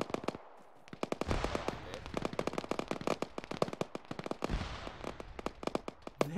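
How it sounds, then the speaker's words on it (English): Rapid bursts of explosions and gunfire from ARMA 3 combat, grenades going off among trees, dense cracking blasts in quick succession, loud and near, with a brief quiet gap early on. "There is so many grenades going off of those trees, man."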